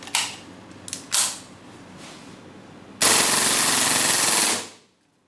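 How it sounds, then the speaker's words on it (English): A KSC VZ61 airsoft gun fed from a long 40-round magazine is handled with a few mechanical clicks, then fires one loud, rapid full-auto burst of about a second and a half before stopping abruptly. "now we are going to test the long version magazine, carry 40 rounds BB bullet."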